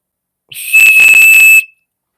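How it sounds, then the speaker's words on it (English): A single loud, shrill whistle blast, piercing and sustained for about a second, then sudden silence. "It's really a whistle, yeah. It whistles"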